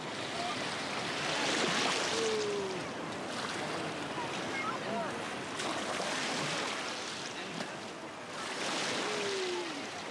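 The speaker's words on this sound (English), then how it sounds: "when the waves come, he gets scared" Ocean waves wash onto a beach in Sri Lanka, a steady broad surf roar that swells and recedes, with wind across the microphone and faint voices in the background.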